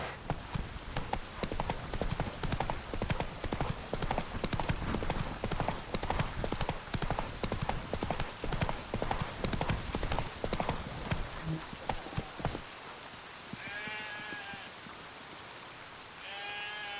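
Roach, Geralt's horse in The Witcher 3: Wild Hunt, gallops with fast, loud hoofbeats for about twelve seconds, then the hooves stop and a soft horse call rises over quiet game ambience.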